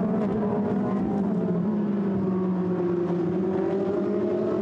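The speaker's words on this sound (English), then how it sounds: "The fleet of Ferraris turns through" Several Ferrari GT race cars on the Paul Ricard circuit drone past in a steady, continuous engine roar, loud and sustained with slight pitch shifts as they move through the corners.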